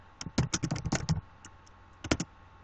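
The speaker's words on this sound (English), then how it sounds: "Let's just type our own text." Crisp keystrokes on a computer keyboard entering text in Canva, a quick run of taps followed by a pause and then a short second burst, close and clear with no voice.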